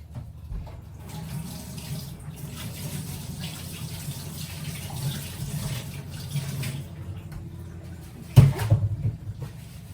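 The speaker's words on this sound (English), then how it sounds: "Just wash my hands." Running tap water splashes steadily into a kitchen sink as hands are washed, a soft continuous rush with a brief louder clatter near the end.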